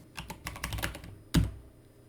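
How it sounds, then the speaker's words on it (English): Someone types on a computer keyboard while working on Wordle code for an Apple II, a short close burst of quick key clicks ending in one heavier thunk. No voices. "I don't mind typing it"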